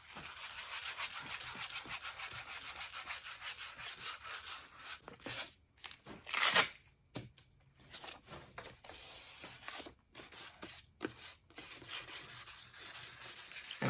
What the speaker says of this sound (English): very lightly sand it with 220 grit paper